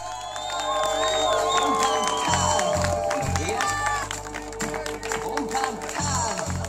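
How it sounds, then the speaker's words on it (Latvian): Spectators at a motorsport award ceremony clap and cheer, with high shouts and whistles over a low rumble, while a voice talks through much of it. "Vēlreiz ar aplausiem sveicam 3. vietas ieguvēju"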